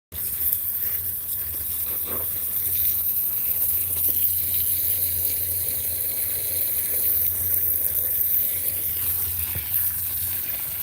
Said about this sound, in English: I'm about to water it again.